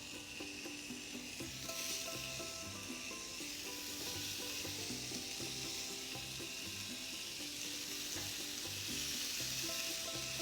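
Bacon cheddar slider patties sizzle on a hot grill pan, a close, constant crackling fry with no voices over it.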